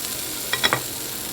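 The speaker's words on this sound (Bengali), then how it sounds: "এটা একটু ভাজা ভাজা করে নিচ্ছি।" Vegetables being stirred and fried in a pan for a sugar-free chutney, a quiet sizzle broken by three quick scraping stir strokes near the middle, with no talk.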